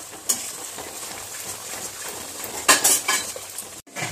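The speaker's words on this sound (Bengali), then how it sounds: "এখন এটাকে ভালো করে কষিয়ে নিতে হবে।" A spoon scrapes and clinks in a pan as spice masala for paneer is stirred and sautéed, with a soft sizzle of frying underneath and a few sharper metallic knocks, close and fairly quiet.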